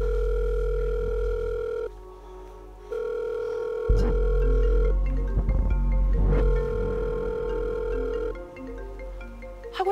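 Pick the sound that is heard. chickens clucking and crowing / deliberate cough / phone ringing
phone ringing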